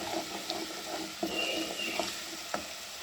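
Ginger garlic paste sizzles steadily in a hot pan with onions, with faint scraping and stirring taps breaking through the constant frying hiss; no voices.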